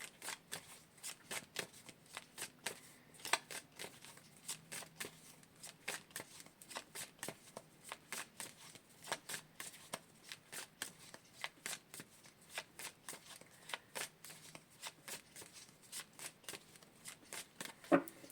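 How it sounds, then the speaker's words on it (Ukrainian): A deck of playing cards being shuffled over and over, with quiet rapid riffles and snaps that repeat in a steady rhythm for about eighteen seconds, close by and soft, with no voices. "я перетасовую колоду"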